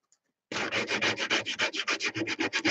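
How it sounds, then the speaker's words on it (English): Rhythmic rasping of heavy-grit sandpaper scraping across the blade end of a wooden massage tool, steady back-and-forth strokes, close and loud with no talking. "And I'm sanding one of the ends, the blade end, with heavy grit sandpaper."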